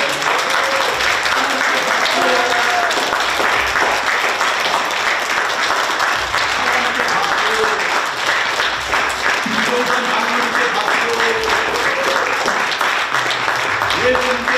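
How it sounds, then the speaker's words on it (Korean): A church congregation at a Korean Presbyterian Sunday service applauding with raised hands, dense continuous clapping filling the room throughout, with voices talking and calling out over it. "손 올려 들고 박수"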